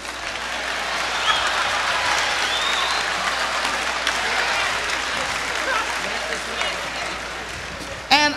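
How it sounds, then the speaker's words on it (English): Audience at a jazz festival in Monterey applauding steadily, a broad, sustained wash of clapping from a large crowd, with a brief voice near the end. "How about a nice, great big round of applause for Willie Mays?"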